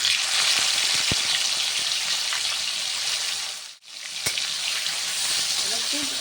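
Marinated mutton tipped into hot oil with cardamom and cinnamon, frying with a steady loud broadband sizzle throughout, briefly dipping to near silence before the crackle resumes, with a few sharp clinks of a utensil.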